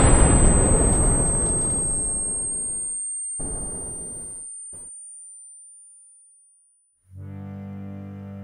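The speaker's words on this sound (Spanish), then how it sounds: "Una explosión." A big explosion sound effect erupts with a deep roar that slowly dies away over several seconds, broken by short cuts, then gives way to a steady low tone near the end.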